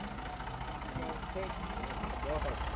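An MF260 tractor engine drones steadily under load while climbing in third gear, a low continuous rumble with someone talking over it.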